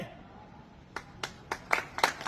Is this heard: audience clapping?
yes